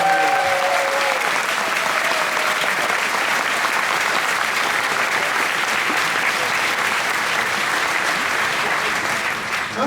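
A large convention crowd at a furry convention opening ceremony claps loudly and continuously for the registration team, a dense sustained wash of applause with no break.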